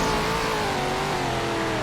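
A sports car engine in Roblox ramp jumping, a loud, constant high-revving drone that holds steady from start to finish.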